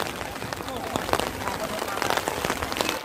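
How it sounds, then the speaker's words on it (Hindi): Rain falls on surfaces at a lakeside eco campsite near Karjan Dam, a steady close hiss of pattering drops throughout with no pauses. "अभी वेदर बहुत ही बढ़िया है, बारिश गिर रही है, क्लाउडी वेदर है।"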